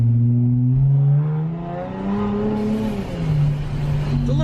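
Car engine fitted with a Ripp supercharger exhaust revs up and settles, a loud, raspy exhaust drone with rising and falling pitch, close by and heard alone.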